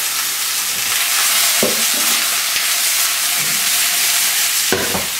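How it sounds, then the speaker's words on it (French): Courgettes sear in olive oil in a hot pan for a quick Provençal ratatouille, giving a steady, loud sizzle throughout with a few stirring clatters from a utensil. "Donc pareil pour les courgettes, légèrement saisies."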